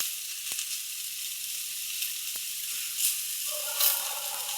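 Chicken gravy masala with coriander powder sizzles steadily in hot oil in a pan, a continuous close frying hiss with a few brief stirring scrapes and knocks.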